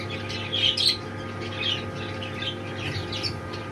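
A bird in a poultry coop gives several shrill squawks in short bursts, close by, over a quiet steady background hum.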